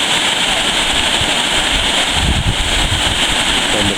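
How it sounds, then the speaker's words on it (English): The Wilge River waterfall on Waterfall Farm roars in a constant, dense rush of falling water, loud and steady throughout with a faint wind-like buffeting. "We are at the second waterfall on Waterfall Farm."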